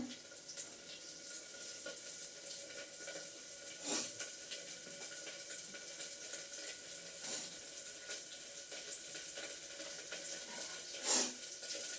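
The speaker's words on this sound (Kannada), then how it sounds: "ಸಾಸಿವೆ ಚಿಟ್ಲತಾ ಇದೆ, ಅದಕ್ಕೆ ಕರ್ಬೇವಿನ ಸೊಪ್ಪು ಹಾಕ್ಕೊಳ್ಳೋಣ" Mustard seeds splutter in hot oil with curry leaves tossed in while bassaru is cooked, a faint steady hiss broken by a few sharp pops.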